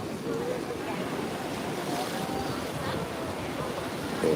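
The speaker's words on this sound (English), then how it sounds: "waves hitting the shore, waves hitting the reef, exploding" Ocean waves hit the shore at Las Palmas on Gran Canaria in a steady, broad wash of surf with some wind noise, close and continuous.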